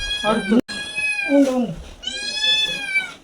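A cat in a village household meows loudly and close by, giving three drawn-out, wavering cries with brief pauses between them.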